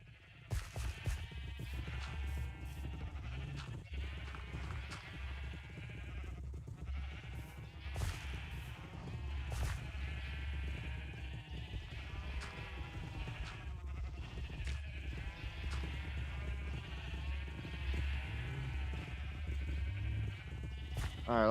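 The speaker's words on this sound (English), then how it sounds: "The sheeps literally are just too many." A large flock of sheep bleating constantly at close range, many overlapping calls in an irregular stream over a low background rumble.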